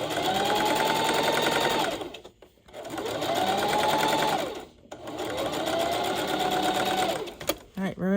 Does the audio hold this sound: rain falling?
no